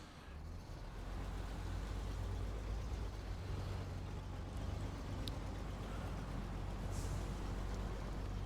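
Western Star truck engine in the video game SnowRunner, a steady low diesel rumble that holds at an even loudness throughout, close and alone with no talking.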